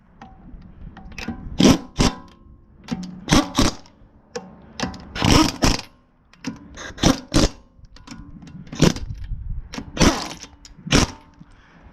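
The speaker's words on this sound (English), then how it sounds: "I'm going to just run them in with the impact." An impact wrench runs wheel lug nuts on, firing a series of short, sharp rattling bursts with brief pauses between them, close and fairly loud.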